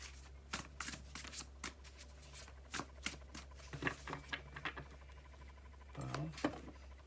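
Tarot cards being shuffled in repeated quick riffling bursts, close up, with a low steady hum underneath and brief pauses between shuffles.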